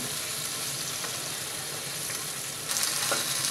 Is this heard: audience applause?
no